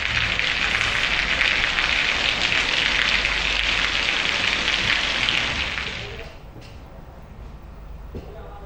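Heavy rain from Cyclone Tauktae pours as a steady, loud hiss that eases off toward the end, leaving a quieter background.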